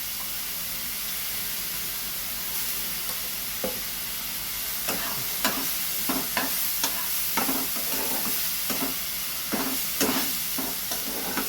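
Onion paste sizzles in a pan while a spoon stirs it, with a steady frying hiss and a run of sharp scraping strokes in the second half, close and fairly loud.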